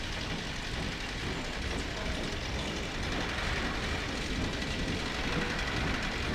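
A train in Half-Life 2 rumbles past at steady loudness, a dense continuous mechanical roar with rail clatter and no clear rise or fall, heard alone without talk.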